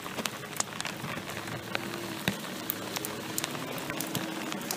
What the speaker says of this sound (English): We've got a little bit of rain going on right now.